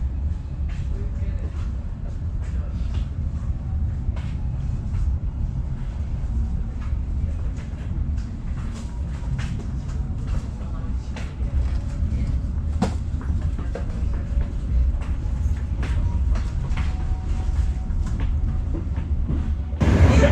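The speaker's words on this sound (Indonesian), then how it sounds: "jadi kereta lokal Cepunya sudah berangkat dari stasiun Bojonegoro tadi" A local passenger train departing Bojonegoro station on the Cepu–Surabaya Pasar Turi line, heard from on board as a steady, loud low rumble with rhythmic clicking of wheels over rail joints; talk is faintly mixed in.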